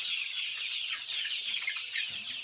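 A flock of five-day-old chicks on a farm cheeps continuously in a dense, high-pitched chorus close by, with no voices.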